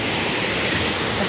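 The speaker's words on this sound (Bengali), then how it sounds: "ওয়াও ঝর্ণাটা জাস্ট ওয়ান্ডারফুল" A waterfall in Japan during autumn-leaf season, in rain, gives a steady, dense, broadband rush that stays even and unbroken from start to finish, fairly close and loud, with no voices.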